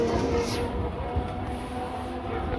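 A train rumbles steadily at busy Berhampore Court railway station, a continuous close mechanical drone with no distinct clatter, lasting the whole moment without speech.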